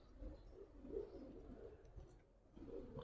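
Pigeons of an old, high-quality full-circle breed coo softly and steadily in low, rolling murmurs close by, with no speech over them.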